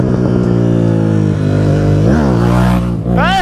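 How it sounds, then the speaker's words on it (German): A motorcycle on the street rides past doing a wheelie, its engine a loud, buzzing drone that rises and falls in pitch as it passes close by, ending with a quick rev, and nobody speaks. "Jetzt zieht einfach ein Wheelie vorbei."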